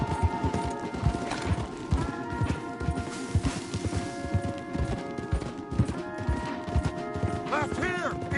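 Hooves pound in a fast, steady galloping rhythm, loud and close, with a horse whinnying near the end over a busy soundtrack from the video game Red Dead Redemption 2.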